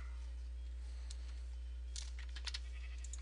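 Short digitized sheep bleats from Minecraft sound faintly over a steady low hum, with a few small clicks scattered between them.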